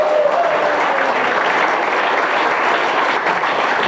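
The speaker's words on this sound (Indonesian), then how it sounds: "Tepuk tangan dulu." Dense crowd applause fills the whole stretch, steady and loud from start to finish with no individual claps standing out.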